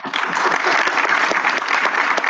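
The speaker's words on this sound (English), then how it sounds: "Let's give our debaters another round of applause, shall we?" Audience clapping steadily and fairly close at the close of a university English debate final, a dense sustained round of applause with no break across the moment.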